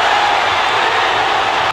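Crowd at a One Fighting Championship MMA bout erupts in a loud, dense roar of cheering and shouting, a steady broadband wall of noise lasting throughout before cutting off abruptly.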